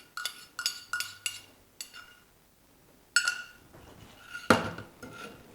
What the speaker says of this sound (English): I add the oil to the coffee.